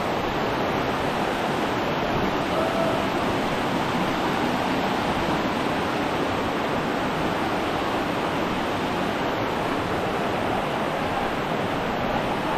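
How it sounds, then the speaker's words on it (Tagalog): The Talaro river flows past a village water-pipe repair site, giving a steady, even rush of water that stays constant throughout with no voices. "Ilog talaro na daw po ito."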